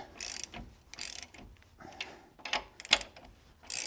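A ratchet wrench clicks in short uneven strokes while leaf spring bolts are re-torqued, close and mechanical with pauses between pulls.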